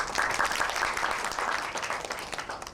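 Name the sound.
audience applause for bank guest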